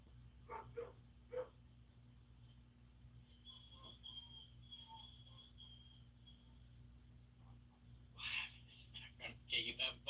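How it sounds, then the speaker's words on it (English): A dog barks in short sharp bursts near the start and again toward the end, fairly close but modest in level, with quieter stretches of faint tones and room noise between. "Dog."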